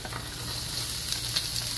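Onion sizzles softly in a touch of olive oil in a pan for steak with onions, a faint, even frying crackle with small pops, heard close and alone.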